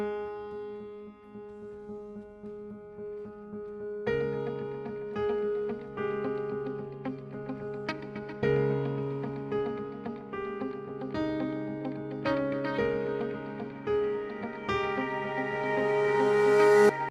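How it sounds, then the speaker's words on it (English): A simple piano figure opens a progressive instrumental, sparse sustained notes at first, then fuller chords entering around four seconds with a steady pulse, clear and close with no voices. "the song starts with this simple piano"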